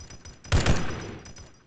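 Automatic rifle fire in the Arma 3 Halo mod, heard as one short, loud burst of overlapping shots around the middle that trails off into a fading echo.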